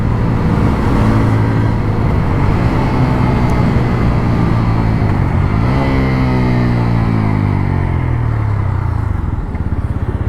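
Apache RTR 200 4V motorcycle engine at steady high revs, then a sharp blip and a falling, rising rev sweep as it downshifts aggressively on the slipper clutch, loud and close throughout.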